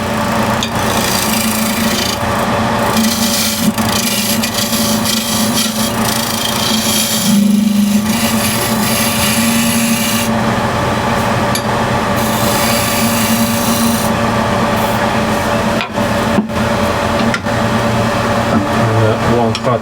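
Spindle gouge cutting the base of a wooden suction-fit box on a lathe, giving a loud, steady shearing whir over the motor's constant hum.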